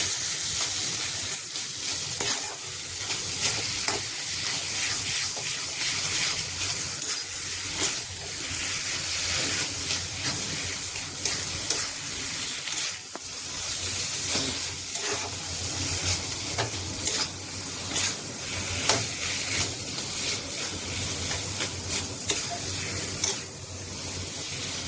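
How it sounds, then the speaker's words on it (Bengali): Spiced jackfruit filling stirred in a pan over heat produces a continuous bright sizzle and hiss with repeated soft scraping strokes, close and steady throughout. "সমস্ত মশলাগুলো ভালো করে এঁচোড়ের পুরটার সাথে মিশিয়ে নিতে হবে।"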